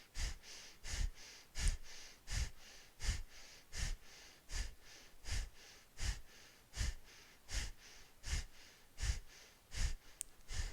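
Rapid, rhythmic forceful breaths through the nose in Kundalini yoga Breath of Fire, evenly spaced about twice per second, close and steady throughout.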